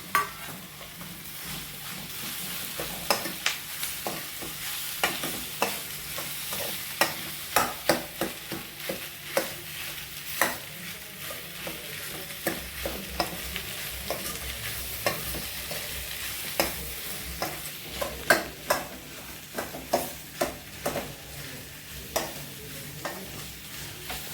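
Potatoes fry in a pan for a kurma, a constant sizzle broken by frequent scraping stirs and clatters of the spoon against the metal, close and steady, with no speech.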